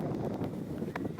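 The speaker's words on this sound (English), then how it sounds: "You can hear the wind blowing on the stump mics." Wind buffets the stump microphones at an outdoor women's T20 cricket match between West Indies and India, a steady low rumbling roar with faint rustling throughout.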